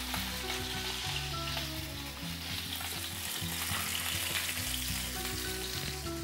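A salmon fillet sears in a hot pan and is flipped over, giving a steady, dense sizzle and spit of frying oil that stays loud and even the whole time, with no talk.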